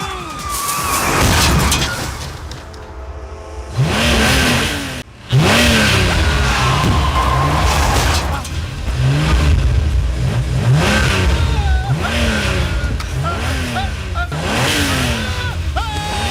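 A car engine revs and surges repeatedly as the vehicle drives, rising pitch sweeps recurring every second or two, loud and close, with a brief dropout near the middle and a siren-like tone in the mix.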